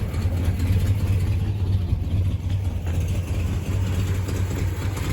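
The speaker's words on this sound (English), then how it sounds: "Yeah, a little shaky idle, but that's an old Mopar." A 1978 Dodge Magnum V8 with true dual exhaust idles steadily with a low, slightly shaky rumble, loud and near, with no talk over it.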